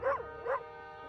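A pet dog gives two quick, loud barks about half a second apart, each with a rising-then-falling tonal yelp, followed by a steady low background hum with no talking.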